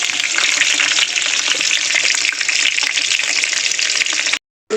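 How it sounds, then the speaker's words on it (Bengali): Potatoes frying in hot oil, a dense, loud, continuous sizzle heard close up without talk, stopping abruptly just before the end. "আলুগুলো আমি একটু লাল লাল করে ভেজে নেব।"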